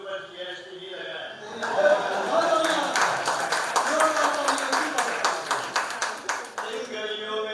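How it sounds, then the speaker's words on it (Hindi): Audience applause at a Hindi poetry gathering and book launch swells in after a few seconds and rolls on as steady, moderately loud clapping, with a few scattered chuckles and voices in the room. "तालियों से स्वागत करिए"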